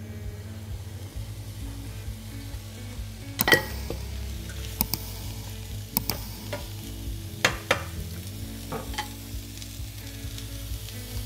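Courgettes, 500 g of them, sizzle and fry in a little olive oil in a pan, a steady close hiss with a few sharp clinks and scraping stirs from a utensil against the pan.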